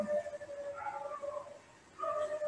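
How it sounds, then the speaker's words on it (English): Several dogs howl in the distance outdoors, drawn-out wavering tones that overlap like a choir, with a brief dip before the howling rises again. "Dogs are howling."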